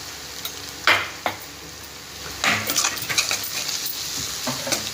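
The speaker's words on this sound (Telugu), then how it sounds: "మన ఉల్లిగడ్డ ఫ్రై అయింది" Onions sizzle in a pan while a metal spoon scrapes and clanks against it in several sharp strokes, close and fairly loud, while cooking goat tripe curry.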